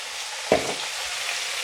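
Masala with salt and turmeric sizzling in a pan while being stirred, a brief scrape near the middle over a steady soft frying hiss.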